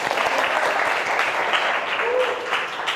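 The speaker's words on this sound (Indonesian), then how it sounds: "Aplaus dulu untuk semua ya." Students in a classroom applaud for a few seconds, a steady wash of clapping from a modest group.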